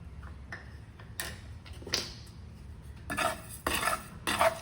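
Dry-roasting spices with sesame seeds in a pan while making Jamnagar-style dry kachori gives close, sparse metallic scrapes and taps of a spoon against the pan, growing busier toward the end, with no voices.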